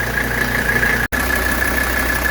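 A 1985 Mercedes 300D diesel engine idling while warming up to temperature, a steady close rumble with a constant whine, broken by a brief dropout in the middle.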